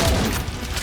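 Auto shotgun firing in Necromunda: Hired Gun, a loud, booming blast with a dense rolling rumble that fills the brief moment, up close.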